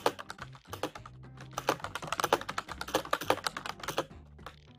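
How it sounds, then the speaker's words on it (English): Rapid clacking from a mechanical computer keyboard typed during an online party game session, a dense, uneven run of crisp keystrokes close to the microphone with no talking. "Chris, is that a mechanical keyboard?"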